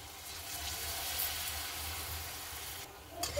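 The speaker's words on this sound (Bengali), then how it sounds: "এইভাবে আমি হালকা হালকা করে ভেজে নেব।" Palm fritters (taler bora) fry gently in oil over low heat, giving a soft, even sizzle that continues quietly. A couple of faint clinks come near the end, and no one talks.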